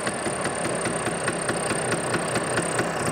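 A vintage Vespa P200E scooter engine idling with the choke off, running smoky after sitting for over two years, gives a loud, close, steady rapid pulsing putter with no pauses.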